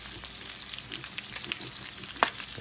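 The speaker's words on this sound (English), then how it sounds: "You hear that bacon sizzling in the background." Bacon sizzles and crackles in a pan, a steady frying hiss with scattered pops and one sharper spatter, heard alone without speech.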